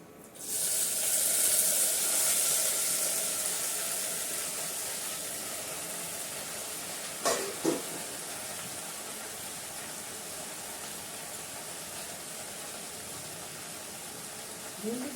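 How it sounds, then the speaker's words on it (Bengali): Okra seasoned with turmeric, salt, sugar and asafoetida fries in a pan with a steady, loud hiss that slowly settles. A couple of brief clinks come partway through. "ভেন্ডিটা সবার আগে ভেজে নিই।"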